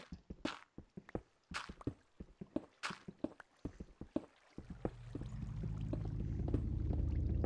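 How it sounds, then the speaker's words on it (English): Minecraft cave: sharp, irregular clicks and knocks from blocks come first, then a steady rush of running water fades in and grows louder, a continuous hiss that takes over the rest of the stretch. "Oh, I hear water running."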